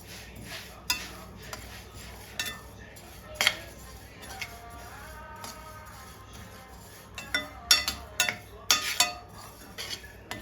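Spices with black pepper dry-roasting in a pan over a low flame for a village-style dry raw mango pickle, a utensil scraping and clinking against the pan in scattered bursts, louder toward the end.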